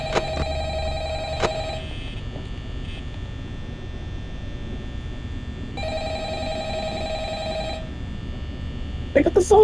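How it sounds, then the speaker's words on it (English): An old-style telephone rings in Five Nights at Freddy's, two long bursts of the bell separated by a pause, steady and clear over a low hum, with a short noisy rustle at the end. "Pick up the phone."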